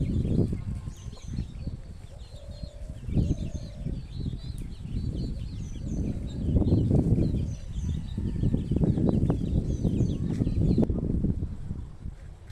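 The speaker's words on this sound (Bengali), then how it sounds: "দেখেন কত সুন্দর মুরগি," Several chickens cluck and murmur nearby in a steady, busy chorus, with occasional soft calls rising over the low farmyard hum.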